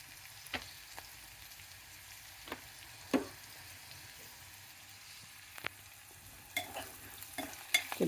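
Onions fry in a pan with a soft, steady sizzle while a spoon scrapes and stirs at scattered moments, clacks standing out over the low hiss.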